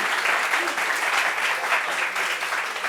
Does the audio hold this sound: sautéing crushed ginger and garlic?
no